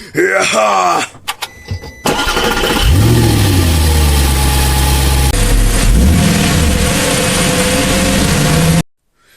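A motorcycle engine fires up after brief voices, then revs and settles into a loud, close idle with rising and falling throttle bursts.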